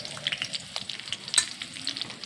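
Garlic, curry leaves and turmeric sizzle and crackle steadily in hot oil, close and continuous, with no talking over the frying.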